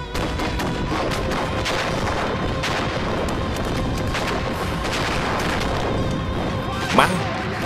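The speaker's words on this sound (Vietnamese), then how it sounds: "Ra lệnh pháo binh bắn pháo." War film battle scene with dense, continuous artillery and gunfire rumbling throughout, heavy booms layered over one another and a sharper crack near the end; shouted voices are faintly mixed in.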